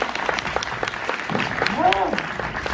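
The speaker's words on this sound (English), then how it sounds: "How about giving him a big round of applause, everybody?" Audience applause at a live horror make-up show at Universal Orlando theme park, a steady wash of clapping throughout with a voice calling out briefly over it.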